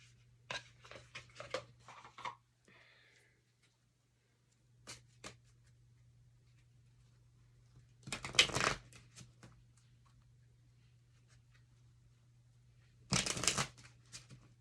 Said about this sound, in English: I'm gonna finish this off with an oracle card from the When My Soul Speaking, When My Soul Whispered oracle deck